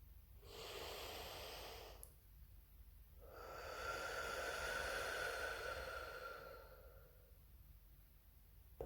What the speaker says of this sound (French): je t'invite à prendre 3 grandes inspirations par le nez et expiration par